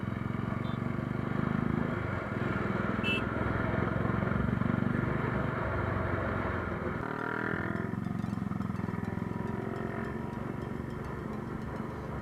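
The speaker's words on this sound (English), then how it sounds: "My friend Sudesh installed a nice exhaust system on his motorcycle, Yamaha R15. It is a ProLiner exhaust." A Yamaha R15 motorcycle fitted with a ProLiner exhaust, its engine droning steadily and loudly through a ride with wind rush, the pitch shifting briefly partway through.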